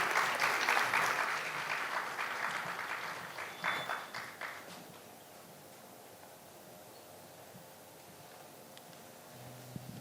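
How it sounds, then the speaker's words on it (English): An audience applauds in a hall to welcome a senior advocate at a legal session on interim protection. The clapping is dense and full for about five seconds, then fades to a quiet room. "Ladies and gentlemen, please join me in extending a warm and respectful welcome to Shri Nitin Thakkar, Senior Advocate. Please have a round of applause."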